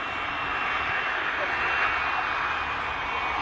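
A Royal Air Force plane comes in to land at an air show, its engine a steady, loud droning roar that holds throughout, ending with a brief sharp bump.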